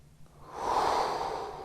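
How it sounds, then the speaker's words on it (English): A single deep breath drawn and slowly let out during a yoga pose, close and airy, swelling to a soft peak and then fading out gently. "One more breath here."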